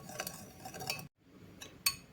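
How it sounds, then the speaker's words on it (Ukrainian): A spoon stirs a small bowl of marinade of salt, sugar and water for Korean-style eggplant salad, giving light scraping and a few sharp clinks against the bowl, close and quiet, with a brief pause midway. "Все розмішую, щоб розчинили сіль і цукор."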